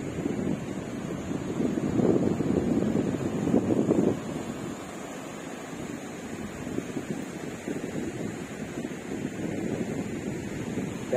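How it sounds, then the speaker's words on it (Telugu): Waves and wind at Kesanapalli beach in Konaseema: constant rushing surf and heavy wind buffeting the microphone, louder in the first few seconds then steady, with no talking. "అదే బీచ్."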